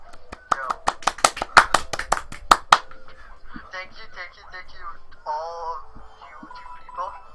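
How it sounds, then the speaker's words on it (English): A few people clap in a quick burst of about a dozen sharp, close claps lasting a couple of seconds, then the claps stop and people talk casually. "let's all clap for RC"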